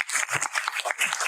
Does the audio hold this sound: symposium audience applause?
yes